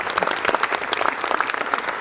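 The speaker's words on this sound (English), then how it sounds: "a round of applause as well?" An audience at the National Local Government Service Delivery Indaba 2025 applauds its international guests: brisk, dense clapping from many hands, loud and steady for about two seconds, with no talking.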